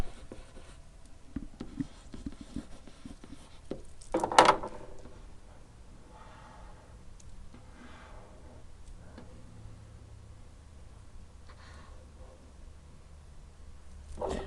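An equation written by hand in a trig ratio lesson: soft, close pen or pencil scratching in short strokes, with a louder knock partway through, no voices.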